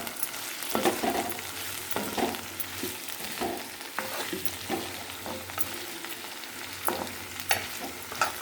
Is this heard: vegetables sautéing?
yes